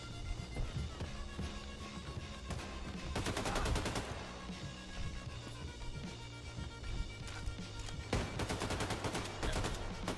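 Nuclear cannon fire in Wolfenstein II: The New Colossus, heard as dense bursts of rapid gunfire and explosive cracks over game music, surging around three to four seconds and again near eight seconds.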